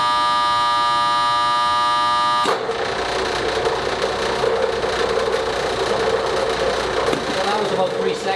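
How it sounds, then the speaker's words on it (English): A timer's buzzer drones as a steady electric tone for over two seconds, then cuts off as a motor starts abruptly and runs with a loud, rough hum to the end. "the amber light will come on with the buzzer, and the green light will come on with the motor."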